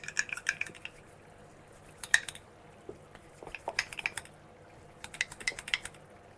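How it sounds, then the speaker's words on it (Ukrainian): Sour cream being beaten with flour in a bowl for Transcarpathian chicken paprikash, heard as quiet, irregular clinks and scrapes of a utensil against the bowl, coming in short clustered bursts. "Розколочую"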